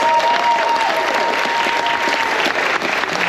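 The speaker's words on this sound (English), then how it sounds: "make some noise for all my heroes" Aboard the Carnival Glory cruise ship during a military appreciation event, a crowd applauds and cheers loudly and continuously for service members, a dense, sustained wash of clapping with some shouts mixed in.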